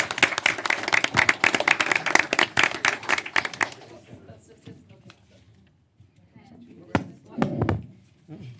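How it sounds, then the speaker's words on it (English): Meeting audience at a Forward Pinellas public board session applauds in recognition of a member's years of service; dense, loud clapping for about four seconds, then it stops abruptly, leaving faint room noise and a few scattered thumps and knocks. "Go ahead and applause now."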